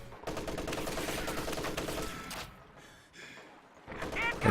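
MG34 machine gun firing in Company of Heroes 2, sustained rattling bursts amid dense battle noise, fading midway before another loud burst, with voices present.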